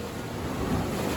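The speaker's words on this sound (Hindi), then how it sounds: "लहर आ रही है ना।" Sea waves wash in at a seaside shore temple in Gujarat, a steady broadband surge of surf swelling slightly toward the end, with wind noise on the microphone and no talk.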